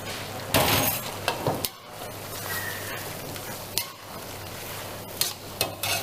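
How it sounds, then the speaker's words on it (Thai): Chicken with ginger is stir-fried in a pan, giving a soft, continuous sizzle broken by several sharp scrapes and clacks of a utensil against the pan. "ผัดพอเข้ากันนะครับ"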